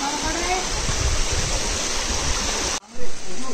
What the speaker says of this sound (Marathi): धबधबा पडतोय. नाद आहे.